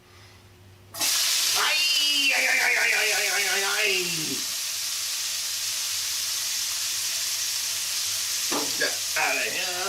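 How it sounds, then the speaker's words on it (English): Mushrooms sauteing in avocado oil in a pan, a loud steady sizzle that bursts in suddenly and holds for the rest of the moment, with a voice speaking over it partway through. "So now, avocado oil in the pan. Let's saute some mushrooms."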